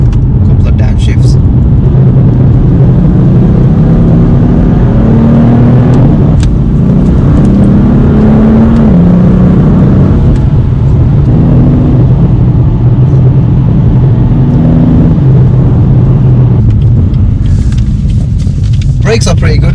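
A BMW M4 F82 in Sport Plus with its gearbox in manual mode rumbles loudly at close range as the engine revs rise and fall through a couple of downshifts, a heavy, continuous drone with shifting pitch.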